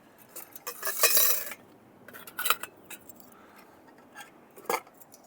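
Metal Trangia stove parts clink and clatter as pieces are handled and fitted together, several bright clanks and rattles up close with quiet pauses between them.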